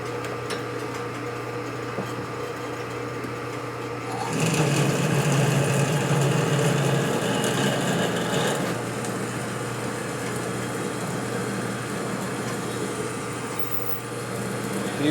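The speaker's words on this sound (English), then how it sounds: "So we need a pilot drill, something just to shove through it." A high-pitched motor whine rises abruptly and grinds steadily for several seconds, then continues at a lower, buzzing drone as a pilot drill works through metal during a 1965 Harley-Davidson Panhead motorcycle repair.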